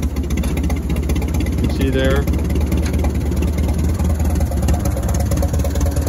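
A tractor engine idles steadily with a low, rumbling chug; someone speaks briefly over it.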